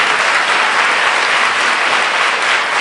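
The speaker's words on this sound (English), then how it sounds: "let's give another round of applause to your principal" Dense, steady applause fills the hall for the principal at a public school recognition event, loud and continuous with no pauses or voices over it.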